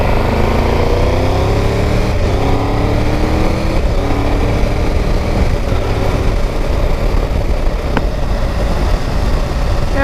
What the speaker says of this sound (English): there's a bit of a low frequency buzz to the engine,